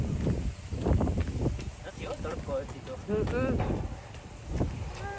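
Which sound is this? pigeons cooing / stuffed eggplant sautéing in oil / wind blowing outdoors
wind blowing outdoors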